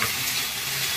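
A brief, steady hiss of oil frying in a pan, heard just before torn green chillies go in while cooking a village-style drumstick flower dish, close and even with no talking.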